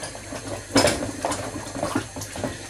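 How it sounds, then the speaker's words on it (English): A hand being rinsed under a running kitchen tap, with a steady close splash of water and a few brief clatters in between, heard alone with no talking. "Just rinse my hand."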